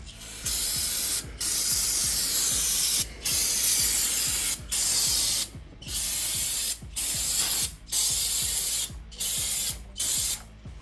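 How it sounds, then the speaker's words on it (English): Repeated bursts of aerosol spray hiss loudly, about ten of them, each lasting roughly a second with short silent gaps in between, close to the listener, spraying brake fluid off a 1981 Corvette's brake line. "Let's go back and spray off all the brake fluid that was dripping down from the line here."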